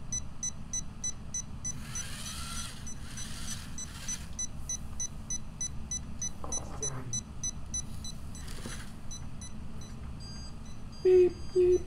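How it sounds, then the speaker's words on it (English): A robot at an automation technology club meeting gives short electronic beeps that repeat at a regular pace, moderately loud, with brief mechanical noise and room sounds in between. "Beep, beep, beep, beep."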